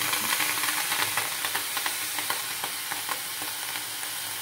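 Misal ingredients hit a hot kadhai and sizzle loudly and steadily, with soft scraping stirs ticking through the frying hiss. No voices.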